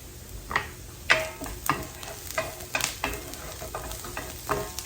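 Jalapenos frying in bacon grease in a pan, a steady crackling sizzle broken by repeated louder bursts as they are stirred, close and with no talking.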